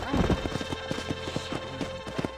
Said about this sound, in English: Eu entrei no cavalo.